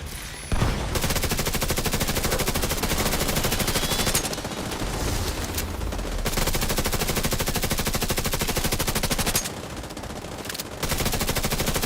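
Sustained automatic gunfire from The Division 2 video game, dense continuous bursts of rapid shots running almost the whole time with brief pauses between volleys, loud and close with no talk over it.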